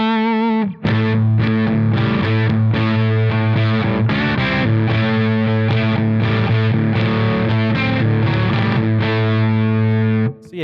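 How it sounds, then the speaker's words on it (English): An electric guitar runs through a Nobels ODR-1 overdrive pedal into a Blackstar St. James amp, giving a loud, continuous wall of crunchy, distorted, sustained chords. It starts and ends with short gaps and has no talking. "So I have a Noble's ODR1 overdrive"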